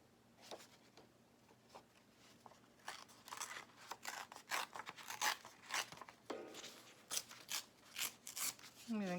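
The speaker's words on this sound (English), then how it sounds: "I'm going to cut this circle out," Scissors snip through paper while a circle is cut out of a journal page, giving a series of close, crisp cuts and rustles that grow busier partway through, with no talking.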